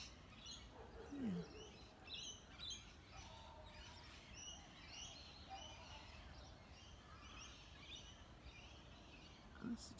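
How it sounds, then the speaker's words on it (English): Birds chirp and call intermittently on an afternoon outdoors, faint and somewhat distant over a low, steady background rumble, with scattered tweets throughout. "Listen to those beautiful birds."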